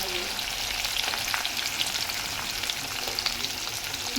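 Onions frying in oil in a pan while a curry is cooked, a steady close crackle and sizzle that continues throughout with no talk.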